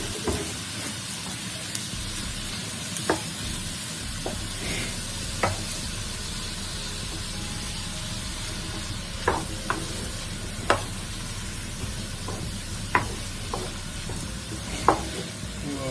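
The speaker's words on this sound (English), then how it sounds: "So I'm gonna give this a stir." Curry lentils and vegetables stirred in a pot on a stove at low heat, with a steady soft sizzle throughout and scattered sharp spoon scrapes and clinks against the pot, close and alone.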